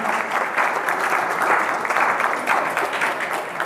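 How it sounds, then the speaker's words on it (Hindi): Steady applause from a school audience at a general-knowledge quiz fills the space, a dense, even clatter of many hands clapping that holds without pause. "ताली बजा दो इनके लिए, 10 बोनस।"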